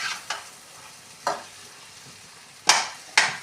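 Carrot pudding with milk and sugar gets stirred in a pan, a spoon scraping the bottom in four or five separate swipes with quiet gaps between, close and fairly loud.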